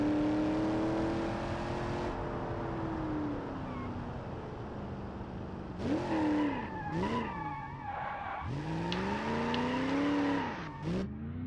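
A BeamNG.Drive Soliad Spica, a Foxbody Mustang-style car, drifting with a revving engine and sustained tire squeal that rises and falls in pitch through several slides, loud and close.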